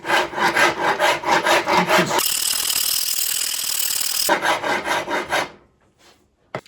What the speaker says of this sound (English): by going lengthways like this along with a rasp, you can actually get something which is reasonably smooth